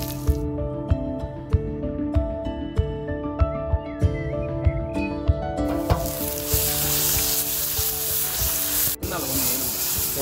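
Mustard seeds crackle and sizzle in hot oil for a village-style mushroom poriyal, with steady sharp pops over a frying hiss that swells into a loud, dense sizzle partway through.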